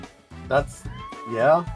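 Kittens meowing in the PS2 video game Dog's Life, two short mewing calls heard under people chatting over the game.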